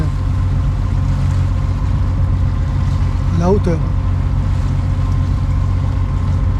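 Steady low drone of a sailboat's engine motoring at about five knots, continuous and fairly loud throughout, with a voice speaking briefly over it.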